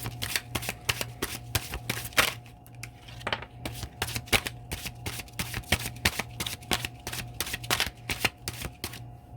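Tarot deck shuffled at close range, a steady run of sharp papery riffling snaps and card flicks repeating for several seconds with no talk.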